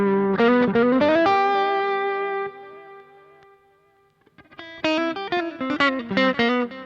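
Electric guitar through an Ibanez Tube Screamer Mini overdrive pedal at lower gain into an amp's clean channel, a warm, slightly driven run of picked notes ringing into a sustained chord that fades, then a fresh burst of plucked notes, alone and close.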